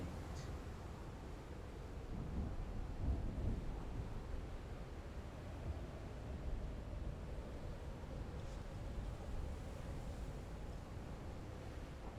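Rumbling thunderstorm in the video game Call of the Sea, a steady low roar of rain and distant thunder with wind, holding at moderate loudness throughout with no one speaking.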